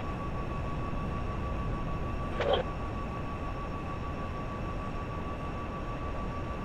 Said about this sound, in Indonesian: Gila, ini slow kereta.